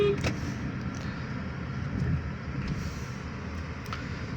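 A Honda Civic drives fast, its engine and road noise forming a steady, close rumble with a faint whine throughout, no talking over it.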